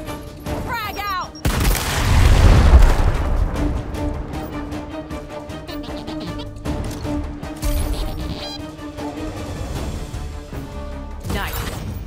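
A frag grenade blows up in Gears Tactics with one loud, deep, close blast that rolls off into a rumbling tail and then fades under battle noise and brief voices.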